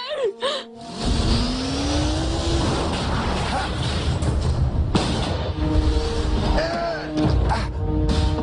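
A loud motorcycle engine roars continuously, with tire noise and shifting pitch as if speeding, after a brief moment of voices at the start, in a Transformers Prime episode.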